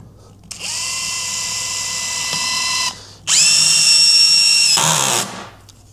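A Bosch EXPERT EXSR18V-90FC cordless screwdriver drives a screw with its smart clutch engaged, a loud close high-pitched motor whine held steady, briefly stopping, then revving again before cutting out.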